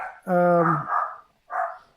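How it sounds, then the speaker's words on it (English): A pet dog barks a few times in the background, short bright yelps partly overlapping a voice as he talks. "Who that barking? that's my dog."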